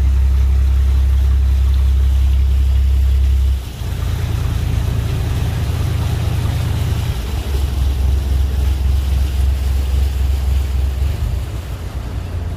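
A ferry boat engine on a river crossing between Kaen Thao and Chanakham, Laos, chugs steadily and loudly, with a low throbbing rumble that shifts in tone partway through, with no voices.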